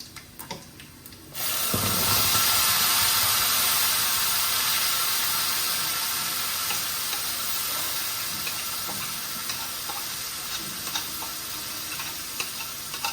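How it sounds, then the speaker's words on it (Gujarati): Mustard seeds, cumin, asafoetida and turmeric hitting hot oil in a pan with browned garlic, bursting into a loud steady sizzle after a quiet start, with faint pops and crackles as the frying settles slightly. "થોડીક રાઈ નાખી દીધી, જીરું નાખી દીધું અને હિંગ પણ અને હળદર આપણે નાખી દઈએ તેલમાં જ."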